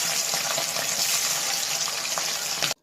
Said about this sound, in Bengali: তেলের মধ্যে মাছটা আমি দিয়ে দিচ্ছি।